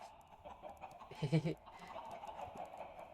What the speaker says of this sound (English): 2 baby chickens isn't too bad.